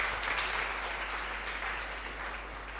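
An audience at an alumni homecoming seminar gives steady, moderately distant applause for Professor Kwabena Brechum Nyako, a continuous soft patter of many hands over a low hum.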